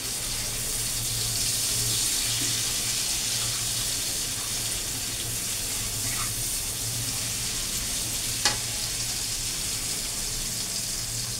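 Onion frying in a pan for a shahi doi katla fish dish, with a pinch of turmeric added, gives a steady, even hiss that stays unbroken for several seconds, with one brief click near the end.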